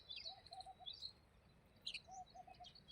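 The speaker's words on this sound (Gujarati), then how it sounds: "ઘણા બધા ચકલા આવે છે" Sparrows chirp at a farm where they are being fed. Several quick, high chirps come in short bursts, soft and fairly near, with quiet gaps between them.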